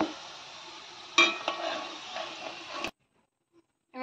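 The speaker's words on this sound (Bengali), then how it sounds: "ভালো করে ভাজতে হবে ডুবো তেলে" Snacks made from semolina, flour and gram flour deep frying in hot oil, a steady close bubbling sizzle with a few stirring scrapes, then stopping abruptly into near silence.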